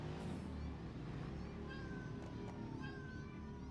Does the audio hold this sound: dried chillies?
no